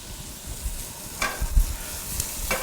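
Mushrooms sizzle in a hot pan alongside sautéed shrimp, a soft steady hiss broken by a few louder crackling bursts and stirring scrapes, close and without talk.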